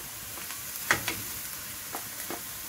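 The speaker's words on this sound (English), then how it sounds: "I'm going to add the garlic into the pan so that the garlic can fry up with the onions." Garlic and onions frying in a pan, a quiet continuous sizzle with a few soft stirring scrapes and pops.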